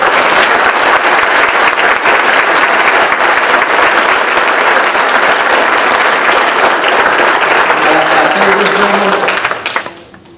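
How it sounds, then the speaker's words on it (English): Loud, sustained applause from a large crowd, steady for about nine seconds before quickly dying away. "Let's give them a huge round of applause."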